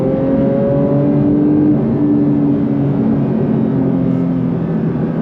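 Porsche 911 GT3 Touring of the 992 generation accelerating hard, its engine note loud, close and steady throughout, with layered tones rising slightly and no talking.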